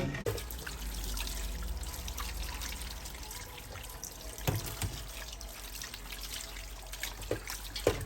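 Running water rinsing freshly cooked, still-hot chicharon (pork rinds) in a sink, a steady close trickle and splash with occasional sharper clinks and drips throughout.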